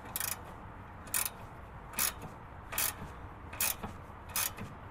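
Ratchet clicks in short bursts of about half a second, roughly one per second, as a 15 mm socket turns the sway bar end link on a Polestar during an IPD sway bar install. The clicking is close and steady, with no talk.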